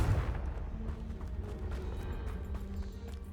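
A low rumbling blast from the Confringo spell in Hogwarts Legacy, a booming hit at the start fading into a steady dull roar.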